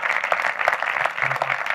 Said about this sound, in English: I think Dave deserves a proper round of applause for that.